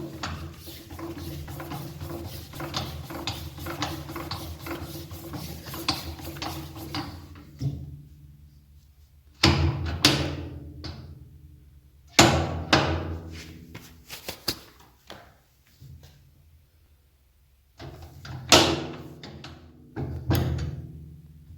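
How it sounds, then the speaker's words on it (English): A morticer cuts a mortise in a wooden window frame: a steady mechanical hum runs at first, then drops away into separate clunking plunges and short whirring bursts with quiet gaps between them. "come over to your morticer and just line it up"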